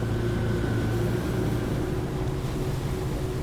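A Ranieri Next 275 LX motorboat cruising at about 25 knots with trim at its lowest, a steady close engine hum and water rush holding constant throughout, no talk.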